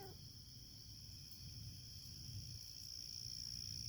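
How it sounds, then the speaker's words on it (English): Crickets chirp in a continuous high, steady trill at sunset, layered with other faint insect sounds over a quiet low outdoor rumble, growing slightly louder toward the end. "Just the crickets"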